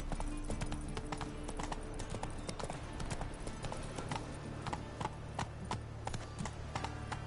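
Steady, continuous clip-clop of horse hooves at a brisk trot while riding in The Witcher 3: Wild Hunt, dense and close throughout.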